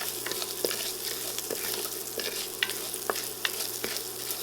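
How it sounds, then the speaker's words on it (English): Grains toasting and sautéing with garlic in a pan for a vegan multigrain soup, a continuous close sizzle with periodic scraping strokes of a spoon stirring through, no voices. "So we're actually kind of just toasting it, sauteing it."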